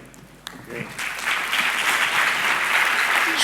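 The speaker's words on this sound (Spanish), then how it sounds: "por favor un aplauso para Peter" Applause from a conference audience for a corporate strategy speaker swells after a brief moment of voice and then holds as a dense, steady wash of clapping to the end.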